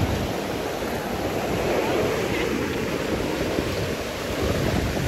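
Surf and wind at Xuyen Moc beach, a steady broadband wash of waves rolling in with gusty wind buffeting the microphone, continuous and fairly loud with no voices.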